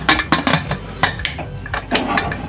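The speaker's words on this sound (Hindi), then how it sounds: "अब इसको ढक्कन लगाएंगे" Metal clinks and clatters as a lid is fitted onto a pressure cooker holding dal, several sharp close knocks and scrapes in quick uneven succession.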